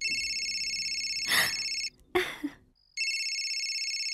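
A steady electronic phone ring sounds loudly, cut off briefly by a short clatter, then resumes ringing.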